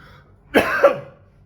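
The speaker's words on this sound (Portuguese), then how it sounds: "Me desculpem essa tosse." A single close cough, a short double burst of harsh breath and throat noise.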